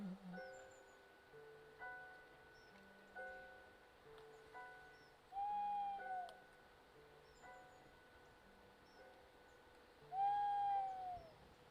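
An owl hoots faintly several times at irregular intervals, two calls standing out louder, over a quiet, steady background.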